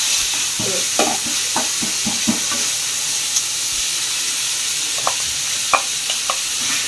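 Onion, coriander, mint and curry leaves sauté in a pan, giving a continuous loud sizzle and hiss broken by scattered scraping stirs from a spoon, with no talking.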